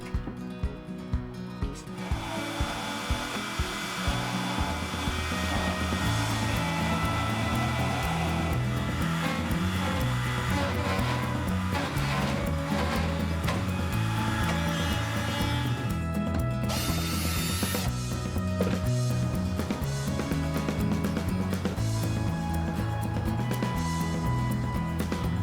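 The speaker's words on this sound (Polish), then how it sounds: "więc otwór poszerzamy frezarką." A router enlarging a hole in a resin geometric planter, a steady grinding, whirring machine noise running close and loud for the whole stretch after a brief rattling start, with a short sharper burst partway through.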